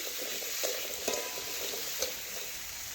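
A paste of ground ginger, cumin, pepper, cinnamon and cardamom is stirred with pumpkin in a hot pan, a soft continuous sizzle with a few light spatula knocks, fairly quiet.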